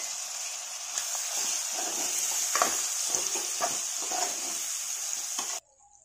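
Prawns and small-chopped tomatoes frying in a pan for prawn curry, a steady close hiss of sizzling with faint stirring scrapes, running evenly before cutting off abruptly near the end.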